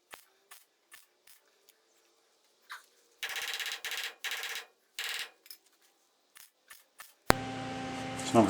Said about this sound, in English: first weld of the morning, never the best